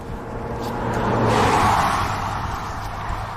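A car passes by on a road near Navajo Nation, a broad whooshing swell that rises to a peak midway and fades away, fairly loud and close with no voices.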